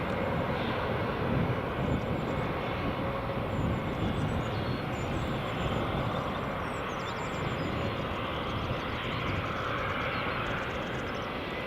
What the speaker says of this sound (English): British Airways City Flyer just taxiing out there now